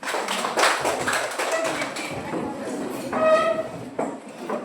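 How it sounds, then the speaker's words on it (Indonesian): A crowd claps together in a steady burst of applause, dense and continuous, with a few murmuring voices mixed in underneath. "silakan duduk, tepuk tangan"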